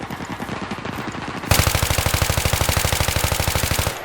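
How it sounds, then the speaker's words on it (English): An assault rifle in the game Battlefield 3 fires in sustained fully automatic bursts, loud and close, with rapid evenly spaced shots that grow denser and heavier midway and continue almost without pause. "It fires so fast for an assault rifle."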